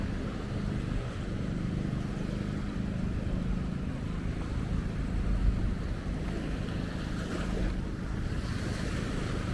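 Ocean waves at Bocagrande beach in Cartagena, Colombia, a steady low rumble of surf mixed with wind buffeting the microphone, continuous and moderately quiet with no talking.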